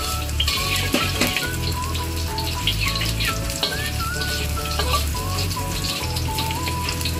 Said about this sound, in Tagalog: Fry ang garlic muna tayo guys.